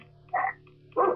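A dog in the video game Earthworm Jim barks twice, short sharp yips spaced under a second apart over a faint low hum.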